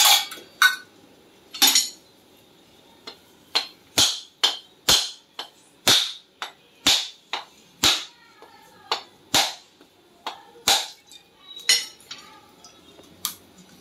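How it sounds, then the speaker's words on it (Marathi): A coconut being cracked open in a home kitchen, heard as a long series of sharp, loud, close knocks, about twenty hard strikes in an uneven rhythm with short quiet gaps between them. "आणि हा नारळ फोडून नारळाचा रस काढून घेणार आहे।"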